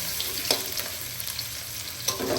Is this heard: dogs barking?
no